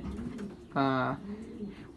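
A breeding pigeon in heat, in a nesting box, gives a single throaty coo, fairly close and clear, with faint background noise before and after.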